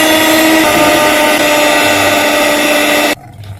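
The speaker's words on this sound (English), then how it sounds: "make sure you whisk this together properly to soften your butter" Butter and margarine being whisked together for a stovetop lemon cake, a loud, steady, motor-like whir that runs continuously and then cuts out abruptly near the end.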